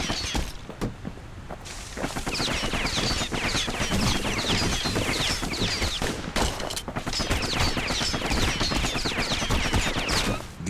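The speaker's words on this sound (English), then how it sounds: "see where they're shooting" Dense, continuous enemy gunfire and shattering impacts in the video game Bastion, a loud rapid barrage of sharp cracks that runs almost without pause.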